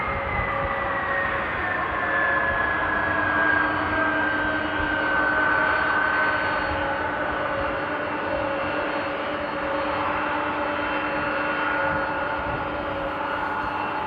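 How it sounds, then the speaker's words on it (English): A United Airlines airliner taxiing at Amsterdam airport in the rain, a loud continuous jet engine whine with a slowly falling tone, steady and fairly close, with no voices. "you guys can hear a very loud United 76 taxiing"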